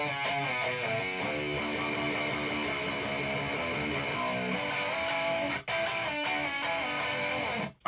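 Distorted electric guitar plays the chorus of a song with chugging, heavy chords and a driving rhythm, loud and continuous with brief breaks, no voices.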